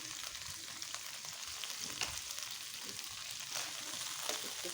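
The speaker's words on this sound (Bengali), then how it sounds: "মাছগুলো করে সুন্দর করে ভেজে নেব" Taki fish frying in a pan, a steady close sizzle with occasional sharper pops and crackles throughout, no voices.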